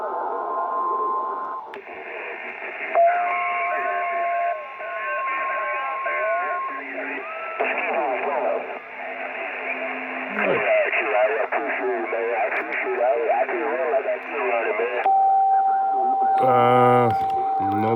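A CB radio set to CW mode gives off a steady, loud beeping tone in long stretches, broken up by hissing band noise and garbled voice chatter from the receiver.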